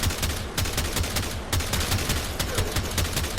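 Tiberon Prime rifle firing in burst mode in Warframe. Rapid, loud, punchy shots follow each other in a steady stream with no talking.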